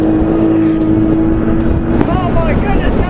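Modified Toyota Supra twin-turbo six-speed accelerating hard with a loud, steady, droning engine note close by inside the cabin, with a rising whine near the end and a person exclaiming over it.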